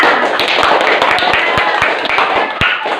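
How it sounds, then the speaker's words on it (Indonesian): A classroom of students claps for groups who have presented, with brisk scattered hand claps and taps close by, steady for a few seconds over a background of voices. "Kita kasih aplaus untuk semua kelompok yang sudah maju"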